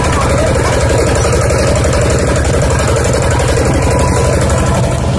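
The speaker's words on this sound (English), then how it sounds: "Oncoming motorcycle just barely able to get along on these slippery," A motorcycle engine runs steadily nearby on a slippery, muddy rural road by rice fields, a continuous low mid-pitched rumble with a faint idling knock throughout.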